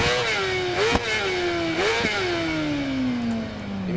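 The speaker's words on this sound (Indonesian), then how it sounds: "Nah, tuh gas full tuh gua." A motorcycle engine in the Ride 4 racing game winds up at full throttle, climbing in pitch with two quick shift dips before holding a long, steadily falling high whine, loud and close.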